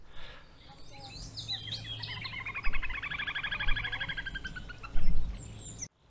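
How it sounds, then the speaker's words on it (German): A bird sings a rapid, trilling phrase over steady outdoor background noise, moderately close, with some low rumble underneath. "Wenn ihr den Vogel auf der letzten Aufnahme gehört habt"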